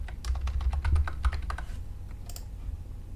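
Rapid clicking of computer keyboard keys while typing text into an HTML title tag for a JavaScript rock-paper-scissors game, a close burst of keystrokes that trails off into quiet after about two seconds.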